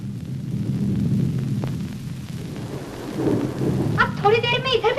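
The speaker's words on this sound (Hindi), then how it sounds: "वो देखो, उस पहाड़ी पर बारिश शुरू हो गई।" Rain falls with a deep, rolling thunder rumble in a 1957 Hindi film scene as a shower starts over a hill, and a voice rises over the storm at the end.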